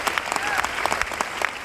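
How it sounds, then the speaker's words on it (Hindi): An indoor audience claps steadily through the whole moment, a dense, even patter of many hands at moderate loudness with a voice speaking over it. "एक बार जोरदार ताली"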